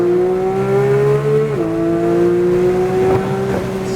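Porsche 911 GT3 on a track accelerating hard, its engine note climbing steadily, dipping briefly at a gear change, then rising again, loud and close throughout with no talk.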